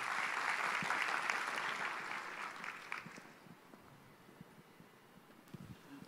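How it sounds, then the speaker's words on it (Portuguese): An audience applauds a lecturer at a Brazilian law congress, a dense wash of clapping that is fairly loud at first and then thins and fades over several seconds, leaving only scattered claps. "Uma salva de palmas para o professor Edgardo."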